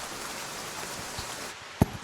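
Steady rain falls in a soft, even hiss, interrupted near the end by one sharp, brief knock.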